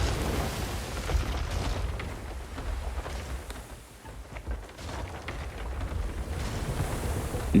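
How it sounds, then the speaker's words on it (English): A wooden ship in the pirate video game Sea of Thieves runs into an island, with a loud, rumbling crash and grinding roar over sea and wind ambience that lasts the whole stretch. "I'm gonna hit the island."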